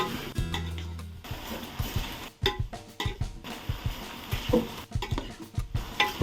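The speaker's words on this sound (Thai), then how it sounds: "นี้เราก็คนนะครับให้ผักสลดแล้วก็สุกนะครับ" Vegetables being stirred in a pot of Isan-style curry (kaeng om), giving quiet, irregular scraping and clinking of a utensil against the pot with soft wet shuffling between strokes.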